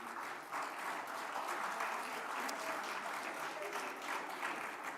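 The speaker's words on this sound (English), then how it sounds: "We can have a round of applause, absolutely" Audience applause fills a hall at a boxing forum in Dubai, a steady wash of clapping that runs nearly the whole five seconds at moderate, slightly distant level.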